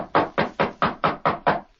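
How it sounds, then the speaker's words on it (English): Seven firm, evenly spaced knocks on a wooden door, close and loud, a radio drama sound effect at a steady brisk rhythm with no voices. "Ezra knocked at the door and..."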